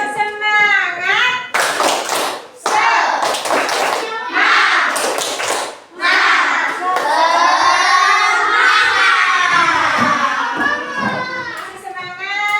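Schoolchildren in a classroom perform a rhythmic spirit clap, bursts of patterned hand claps alternating with sung and chanted group voices, loud and close throughout.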